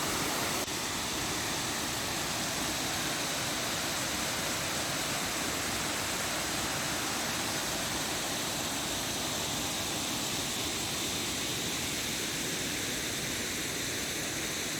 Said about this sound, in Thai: น้ำตกยังใสสวยงามอยู่ครับ